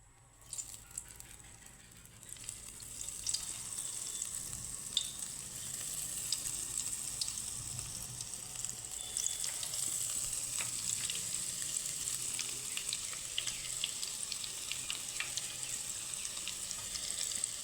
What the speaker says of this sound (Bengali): কড়াইতে তেলটা গরম করে নিয়েছি একদম গরম হয়ে গেছে তেলটা এখন দিয়ে দিব